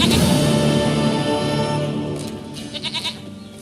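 A goat bleats in The Witcher 3: Wild Hunt, a fairly loud wavering animal call within the game's ambient soundscape, followed by a few short pulsing sounds near the end.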